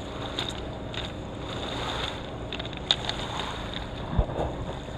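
A gas or nitro boat motor runs out on the water, a faint, steady distant drone with a thin high whine, partly buried in wind noise and the occasional light knock.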